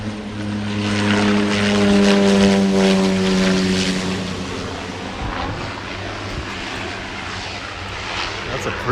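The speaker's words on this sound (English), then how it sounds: "Oh, I've got airplane coming in." A propeller airplane comes in to land in windy weather near Tokyo, its droning engine loud and close and rising to a peak before slowly fading, while people talk over it.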